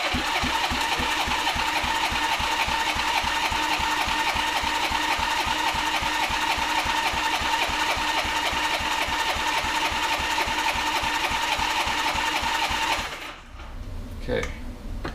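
A 1983 Honda GoldWing engine cranks over steadily during a compression check, giving a fast, regular chugging rhythm for about thirteen seconds before it stops and faint handling noises follow.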